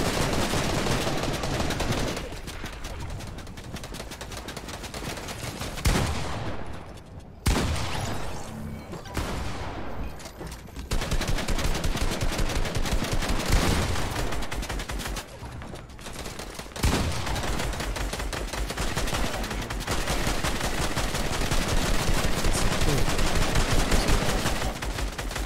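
Bursts of rapid gunfire in the battle royale game Fortnite fill a long stretch, with loud sustained volleys broken by brief lulls and crashing impacts.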